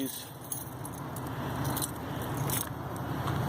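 Car keys jangle and clink close by in short metallic bursts, with rustling handling and a faint background hum.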